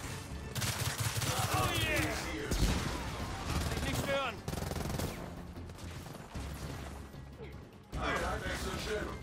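Weapons fire from robot enemies in the video game Gears of War 4, shown as a dense, busy battle mix of shots and crashes running almost throughout, with game voices and noise layered over it.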